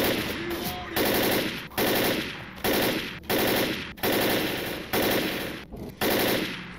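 Sustained automatic assault rifle fire in the zombie shooter Left 4 Dead, loud and close, coming in repeated bursts about a second long with brief gaps between them.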